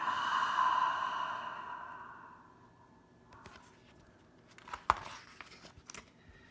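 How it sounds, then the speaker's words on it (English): A child slowly breathing out during a kids' meditation, a soft airy exhale fading over about two seconds, followed by quiet rustles and a small sharp click. "and then breathe out."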